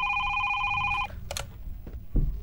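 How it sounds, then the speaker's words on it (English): A telephone rings in a video game, a steady electronic ring that stops after about a second, followed by brief soft clicks and thumps. "You have a phone call."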